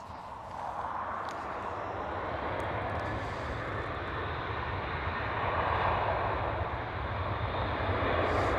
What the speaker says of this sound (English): There goes the 737 converted freighter for LO